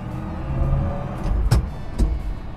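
A 1957 Ford Thunderbird pulling away after a soft clutch engagement, its engine droning close by, with two sharp knocks or clunks breaking through the steady rumble.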